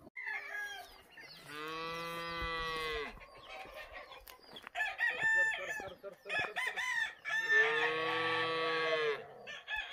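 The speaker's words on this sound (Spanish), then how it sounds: "Allá abajo, fíjate, en la casa, tengo unos gallos para abajo" Roosters crow at a ranch, two long, loud crows separated by a few seconds of clucking and other farm noise, fairly close and with no one talking.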